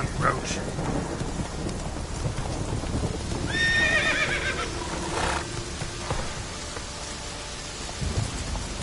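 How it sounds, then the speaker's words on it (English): In The Witcher 3, a horse gallops with hooves drumming while a storm rumbles with thunder and rain, and a short neigh rises midway. "Run, Roach"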